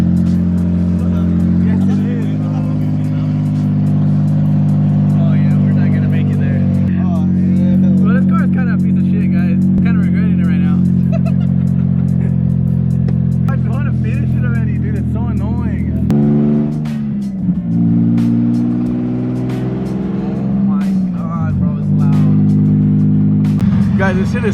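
A Nissan 350Z engine with no exhaust idles and revs with a loud, raw, rough droning roar that holds steady, then dips and surges again toward the end.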